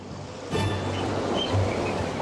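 Rough sea surf roars and washes in a steady, close rush of churning water, swelling slightly partway through.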